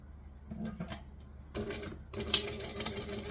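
A sewing machine stitches fabric in short bursts, a faint start of a few pulses followed by two quicker runs of rapid needle clatter, fairly close, with no speech over it.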